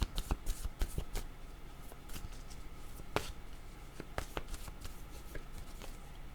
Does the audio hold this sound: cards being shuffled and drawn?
yes